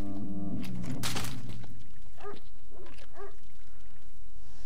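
Dogs barking in the video game STALKER: Shadow of Chernobyl, a few short barks and yelps in the middle distance after a louder thud and rumble at the start, set against a steady low ambient drone.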